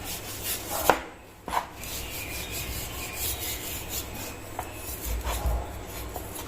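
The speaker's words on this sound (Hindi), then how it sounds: "गोश्त को ना कुछ इस तरह काट लिया, छोटे छोटे पीस काट लिए हैं।" Chilled, partly frozen meat from the fridge being chopped into small pieces for pulao, a few sharp knife strikes and scraping rubs against a board, close and moderately quiet, with no one talking.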